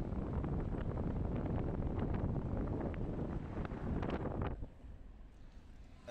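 Strong wind buffets the microphone at Aare Ware beach, a loud continuous rumbling gust that drops off abruptly near the end, leaving a quieter hiss with no voices.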